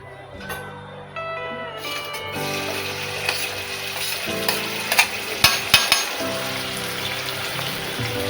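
Onion and green chilli sizzle and fry steadily in hot oil in a kadhai, a close continuous crackle with a few sharper clinks of stirring partway through.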